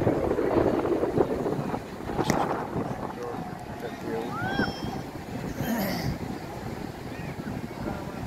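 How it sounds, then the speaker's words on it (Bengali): Sea waves wash in on Cox's Bazar beach at night while wind buffets the microphone, a continuous rushing roar with soft surf swells, and scattered voices from the crowd on the beach are heard over it. "সমুদ্রে খুব সুন্দর ঢেউ আসতেছে আর খুব সুন্দর বাতাস"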